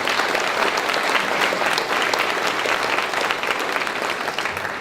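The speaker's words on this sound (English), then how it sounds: "Give yourselves a round of applause" A crowd gathered outdoors at an Albuquerque mayoral news conference claps steadily and loudly, a dense, even wash of applause with no break and no speech over it.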